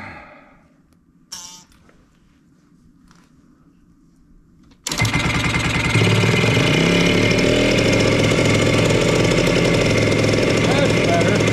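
An old AT3 engine with the choke pulled out sputters, then catches and runs, settling into a loud, steady, close chugging drone after a few seconds of quiet handling sounds.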